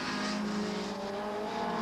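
Touring cars race at Silverstone in round 6 of the 1989 Esso British Touring Car Championship, including a Ford Sierra RS 500, with a continuous loud, droning, high-revving engine roar and no speech.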